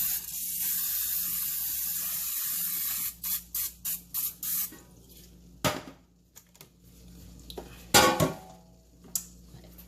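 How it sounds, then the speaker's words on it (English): A long hiss of Pam cooking oil spray on chicken feet for an air fryer, then several short rhythmic spritzes, followed by a few clinks and another brief spray burst. "I'm going to spray it with some Pam"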